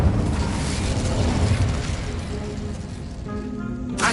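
Incendio fire spell cast in Hogwarts Legacy, a sustained roaring, whooshing burst of flame that slowly tapers off before a sharper flare at the end; no voices.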